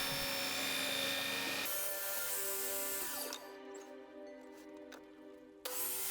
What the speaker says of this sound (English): Why buy tools you don't need when you can just clamp a belt sander to your bench instead?